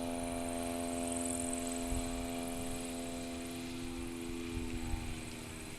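A small STOL airplane takes off from a turf strip during Swamp STOL practice in Jennings, Louisiana, its propeller engine a steady, close, loud drone that holds throughout with no voices.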